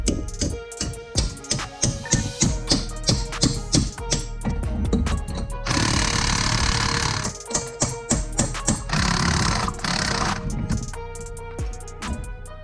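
Repeated sharp metallic strikes of a hammer on a chisel in a steady rhythm, breaking apart a spanner nut on a bent boat propeller shaft, with a stretch of louder grinding noise in the middle.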